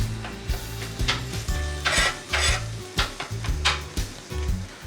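Chili seasoning mixture being stirred on a hot griddle, with a steady sizzle broken by repeated scraping and clanking strokes of a utensil at close range.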